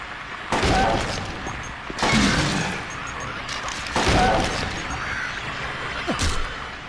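Gunshots in Silent Hill 2, three loud booming blasts spaced about two seconds apart, each with a ringing tail, followed by a smaller thud near the end.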